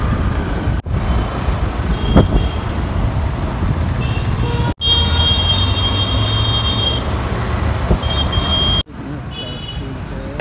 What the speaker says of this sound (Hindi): देख सकते हो ये ट्रैफिक है